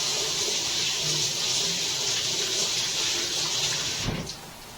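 Hot water runs steadily from a kitchen tap for hand washing while baking shamrock dinner rolls, a continuous broad hiss that stops abruptly near the end.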